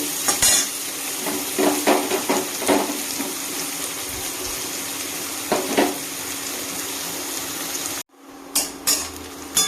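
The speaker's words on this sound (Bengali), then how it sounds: "3টে আছে পেঁয়াজ, ছোট ছোট 3টে পেঁয়াজ একটু ভেজে নেব।" Small chopped onions fry in mustard oil with a continuous crackling sizzle, broken by the clatter of a utensil stirring against the pan. The sound cuts off abruptly near the end before a few more scrapes, with no talking.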